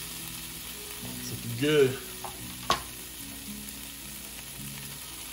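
Bacon-wrapped asparagus sizzles on a Ninja Foodi grill, a low steady crackle running throughout with a brief louder clatter of handling and a short knock midway, while a person speaks briefly over it.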